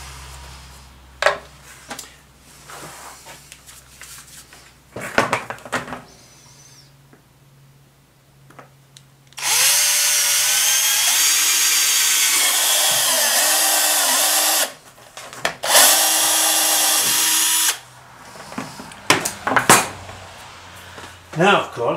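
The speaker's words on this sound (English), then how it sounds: "that will be a good point to drill our hole" Power drill bores a hole during motorcycle work, two sustained high whining bursts of several seconds each, loud and close, set among scattered clicks and handling noises, with someone speaking at times.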